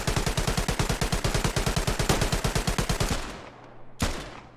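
Rapid automatic gunfire in the World War II shooter game Hell Let Loose: a loud, steady stream of close shots for about three seconds, then a pause and one last sharp shot.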